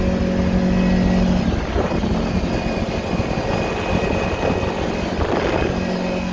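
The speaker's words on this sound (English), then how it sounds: "Everybody ought to try out a Kawasaki 1000. It's a bad boy ATV." A Kawasaki 1000 ATV engine drones loud and steady while riding a trail along the Colorado River near Moab, Utah, with wind rush and a constant low hum filling the whole stretch and no talking.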